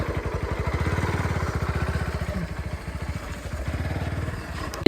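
A motorcycle engine chugs nearby in a fast, steady pulsing rhythm, loud and continuous with a slight rattle, and no one speaks.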